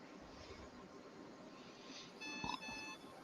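A soft electronic beep sounds once, then a brief steady tone follows, faint over a low background whir.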